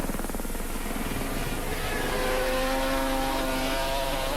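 A 500cc Grand Prix racing motorcycle at a 1986 road race passes loudly and close, with a steady high engine roar whose pitch shifts as it goes by.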